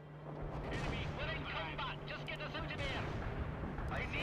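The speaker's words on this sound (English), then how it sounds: "We can easily fill it up with airstrikes." Airstrike explosions rumble continuously in a combat video game, a dense barrage of booms and blasts layered over one another, with a voice talking over them.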